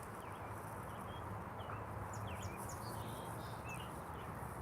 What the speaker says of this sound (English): I have the sound of birds.